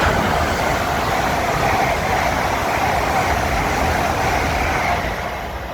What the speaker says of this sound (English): This is what 100 miles an hour looks like on a train.